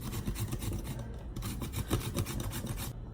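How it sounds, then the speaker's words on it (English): A cucumber is rubbed against a hand grater over a bowl of sour cream, giving a close, rhythmic rasping scrape with quick repeated strokes. "I have this hand grater, so I'm just going to take this and I'm going to grate the cucumber right"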